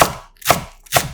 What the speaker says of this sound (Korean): 대파 반 개는 반을 갈라 쫑쫑 썰어